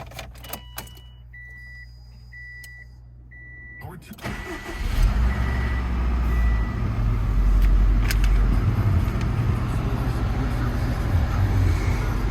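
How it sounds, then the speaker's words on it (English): A 2007 Subaru STI cranks briefly and fires up, then settles into a steady, loud, rumbling idle close to the microphone. A faint chime and some key jingling come before it starts. "let's go fire this thing up."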